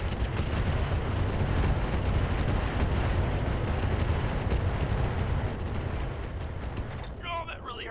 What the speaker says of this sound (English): here comes all the rockets